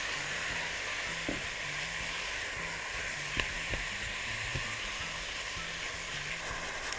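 Bulgur pilaf with minced meat, red pepper, salt and nutmeg sizzles steadily in a pan while being stirred, a continuous frying hiss with a few soft spoon scrapes and taps, no talking.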